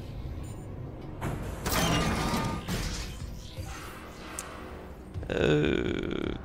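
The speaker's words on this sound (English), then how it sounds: "It's a long elevator ride." An elevator in the video game Dead Space makes a long ride, with clunking, creaking and grinding mechanical noises and a heavy jolt near the end.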